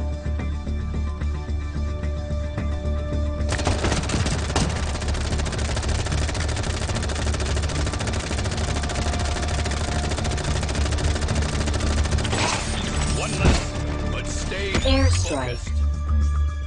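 Rapid automatic gunfire in the mobile military game Tom Clancy's Elite Squad, a dense, continuous barrage of shots lasting many seconds with explosions and effects near the end, loud and close.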